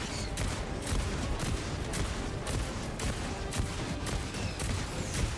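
An autocannon exosuit in Helldivers 2 pounds away at a Bile Titan, a steady stream of rapid heavy shots and booming impacts over dense battle noise, without any speech.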